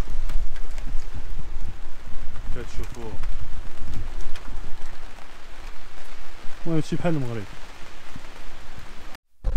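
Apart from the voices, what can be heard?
heavy rain falling on a street in Belgium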